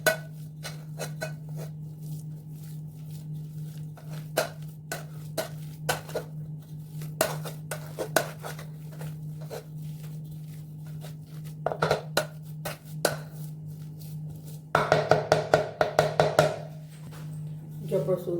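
Boiled, peeled potatoes, six or seven of them, are mashed for aloo paratha with repeated soft thuds and clinks of a masher against a steel vessel, irregular and close, over a steady low hum, with a burst of rapid clatter near the end.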